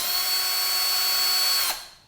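A power drill spins its chuck clockwise, a steady high whine with a constant motor hum that runs loud and even, then stops abruptly, with the sound dropping away as the motor winds down; no speech.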